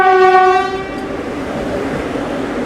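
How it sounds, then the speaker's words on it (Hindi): A Vande Bharat Express slowly approaches a railway crossing: a loud, sustained horn blast opens, then gives way to a steady rolling rumble of the passing train. "वंदे भारत एक्सप्रेस आई है क्रॉसिंग के लिए।"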